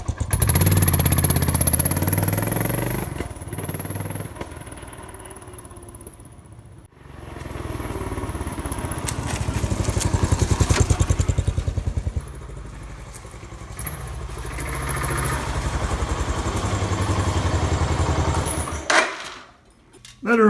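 Motorcycle engine with carburetors running in a garage, an uneven clattering idle that rises and falls, with several revs and a brief cutout midway, loud and near, then dropping off at the end.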